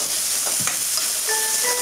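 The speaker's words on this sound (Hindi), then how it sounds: "इसको हिलाएंगे।" Red chili powder frying in hot ghee with onions while being stirred, a steady bright sizzle with soft scraping stir movements and a brief tonal beep near the end.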